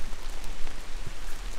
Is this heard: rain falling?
yes